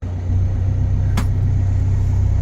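The Koh Sriboya courtesy car pulls up at the pier with a loud, steady engine rumble close by, and a short sharp click or knock partway through.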